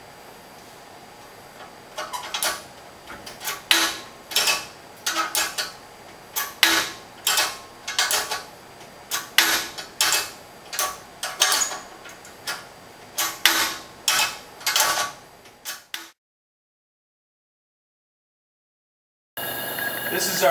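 A plate drop impact testing machine in a lab gives a series of sharp, irregular clacks and mechanical ticks over about fifteen seconds, then falls silent before a brief burst of noise returns.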